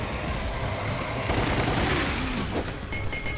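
Gunfire in Resident Evil Code Veronica as zombies are shot at, a dense, continuous burst of shots and booms filling the whole stretch with no pause.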